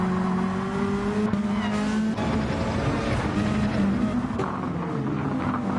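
Race car engines drone loudly and continuously in Gran Turismo as a car slips and slides through a corner, with sustained tonal engine whine shifting pitch and a dense mechanical roar throughout.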